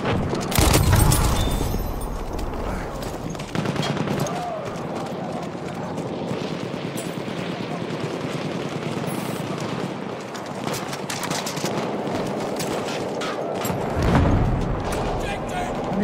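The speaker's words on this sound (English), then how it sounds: "Machine gun, hostile!" Rapid machine-gun bursts and scattered gunfire ring out in a Battlefield 1 multiplayer battle on the Zeebrugge map, mixed with loud explosions and shouted soldier voices throughout.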